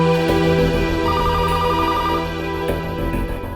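A telephone rings indoors in a home scene, a repeating electronic ringtone with a steady pulsing pattern, loud and up close with no one talking over it.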